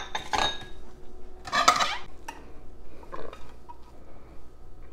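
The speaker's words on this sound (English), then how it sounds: "Let's get a plate out." A plate taken out in a home kitchen, ceramic dishes clattering and clinking against each other in a couple of bright bursts, then quieter knocks and scrapes, close by with no talking.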